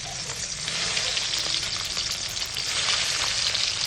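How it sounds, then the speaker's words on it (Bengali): Tangra fish frying in hot mustard oil in a pan, a steady, dense sizzle and crackle that stays loud and close throughout with no voices. "আর একইভাবে বাকি মাছগুলো কিন্তু আমি এইভাবে ভেজে নেব।"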